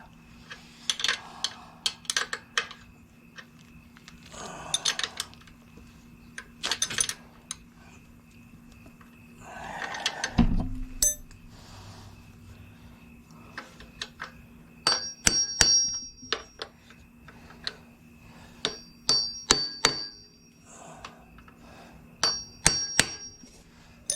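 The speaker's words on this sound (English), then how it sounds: "you kind of want to give it a tap or two to get it settled" Sharp metallic taps on a bushing being seated into a Honda Helix scooter engine: scattered hammer-like knocks and clinks, some ringing briefly, spread over a quiet workshop background with occasional handling noise.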